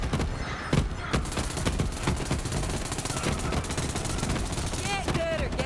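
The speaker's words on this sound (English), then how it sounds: "When you have a gun that has a really high fire rate like this, it's just like you're burning through your mag" Rapid automatic fire from the Kaoson submachine gun in the video game Borderlands 3, a dense, continuous rattle of shots layered with game effects and a few whooshing tones near the end.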